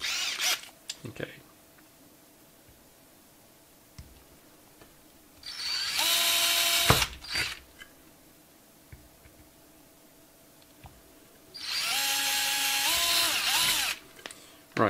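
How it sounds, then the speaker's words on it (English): Two sustained runs of a hand-held power drill drilling pilot holes, whining up and spinning down, close and loud, separated by quiet pauses with small clicks and taps. "so these are going to be my pilot holes"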